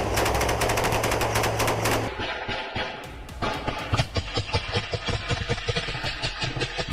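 Gunfire in combat footage as soldiers trade fire at a tree line, with a steady engine-like rumble at first and then scattered rapid shots, mid-distance, with no talk.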